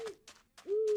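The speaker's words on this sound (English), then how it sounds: "I hear you, Mr. Owl." An owl in the Minecraft modpack All The Mods video game gives a few short, hollow hoots, followed by a longer sustained note, clear and fairly quiet with no talking.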